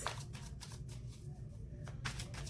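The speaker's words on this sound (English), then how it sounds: "A couple more shuffles for my dear Libra friends," Tarot cards being shuffled by hand, soft riffling bursts that come and go over a low hum, close and quiet, with no talking.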